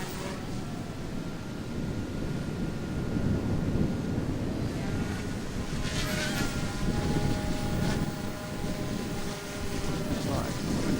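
An OMP Hobby M1 EVO RC helicopter flies in strong wind, its rotor whine drifting in pitch beneath steady, loud wind buffeting on the microphone.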